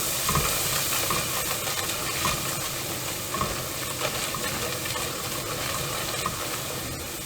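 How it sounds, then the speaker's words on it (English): Flour whisked in a hot pan for broccoli cheddar soup, giving a steady, close scraping stir over a continuous soft sizzle and hiss, with no talking. "At this point, you want to whisk, and you want to make sure that your flour doesn't burn."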